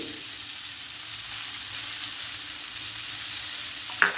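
Curry leaves and tamarind fry in a pan for a chutney, giving a soft, steady sizzle and crackle at low volume, with a brief clatter of stirring near the end and no speech.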